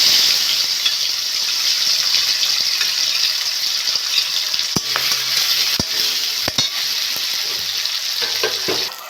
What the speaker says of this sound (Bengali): ওই তেলে আমি চিংড়ি মাছগুলো ভেজে নেব।